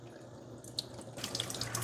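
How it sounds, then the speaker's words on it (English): Tap water runs into a De'Longhi Magnifica Evo water filter indoors, a steady splashing stream that thickens partway through, with a few small drips and clinks. "Next, we'll fill our filter with water."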